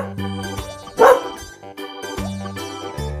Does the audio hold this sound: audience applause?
no